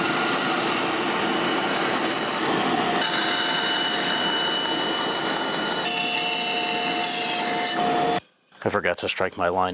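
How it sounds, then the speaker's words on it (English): A bandsaw cutting guitar neck wood in a luthier's shop, a loud, continuous close whine and rasp of blade through timber that stops abruptly near the end, followed by someone speaking. "let's just cut this at the bandsaw"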